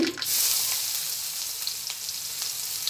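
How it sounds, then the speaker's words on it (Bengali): Finely chopped onions hit hot oil in a wok with a quick burst, then settle into a loud, continuous frying sizzle close by. "এবার দিয়ে দিচ্ছি পেঁয়াজ কুচি"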